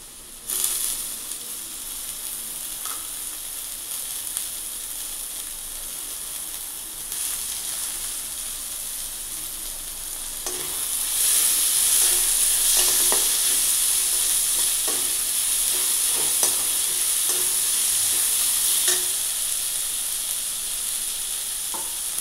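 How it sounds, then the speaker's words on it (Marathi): Tomatoes and onion fry in a pan with a steady sizzle, interrupted by scraping stirs, growing louder and more hissing midway as fresh ingredients hit the hot oil, close and without talk. "यात आता आपण टोमॅटो टाकणार आहोत."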